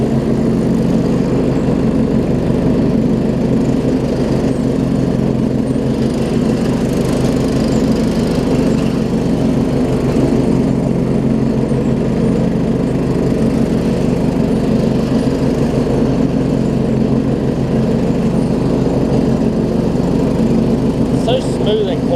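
A John Deere GT225 lawn tractor's 15 hp Kohler engine, with a sheared crankshaft bolt and missing PTO clutch, runs steadily and loudly throughout, a smooth even idle-like drone with no talking.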